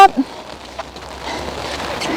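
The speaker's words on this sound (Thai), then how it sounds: "จะมีเสียงฝนนะคะตกลงมาเรื่อยๆ เพราะว่าเรามาวันที่ฝนตก" Rain falls steadily at Conwy Castle, a soft continuous hiss of drops on surfaces with a few brief bumps early on, moderately close and unbroken.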